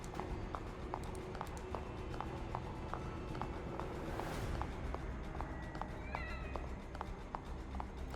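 A cat meows briefly in the horror video game The Evil Within DLC, a couple of short faint cries near the end over a busy bed of game footsteps and clip-clopping ambience.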